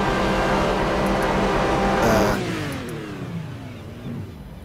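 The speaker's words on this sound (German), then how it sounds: "dann machen wir doch einfach mal den Motor an" An Aston Martin V12 Vantage GT3 in Project Cars holds a loud, steady high rev before the pitch drops and the engine settles back toward idle, with no other sound over it.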